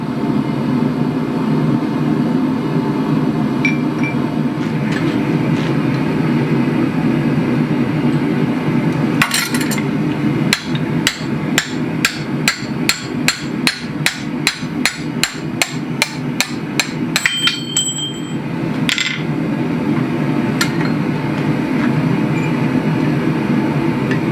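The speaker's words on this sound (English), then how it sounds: "And then we can start actually opening it out over the horn of the anvil and taking the ears in." Hot steel for a bottle opener hammered over an anvil horn: a run of sharp, ringing metallic strikes in a steady rhythm, under a constant roar of a forge fire, with no talking.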